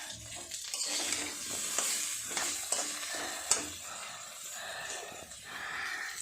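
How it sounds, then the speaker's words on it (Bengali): Cauliflower and potato pieces frying with turmeric in a pan, a constant moderate sizzle and spatter with occasional scraping stirs, no talking. "ফুলকপি আলু ভাজা হচ্ছে, হলুদ দিলাম"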